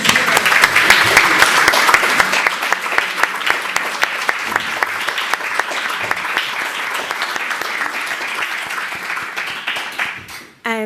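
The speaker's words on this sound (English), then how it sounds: "I think they deserve another round of applause." A live audience at a music therapy event for people with dementia breaks into loud, dense applause that holds steady for about ten seconds, then fades and stops abruptly near the end.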